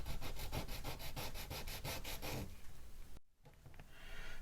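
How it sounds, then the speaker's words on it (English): Rapid, rhythmic back-and-forth rasping of sandpaper on a small wooden part of a 1/84 HMS Victory model ship kit, sanded by hand, close and steady, then slower scattered rubbing after a short pause. "going to keep sanding it until it fits"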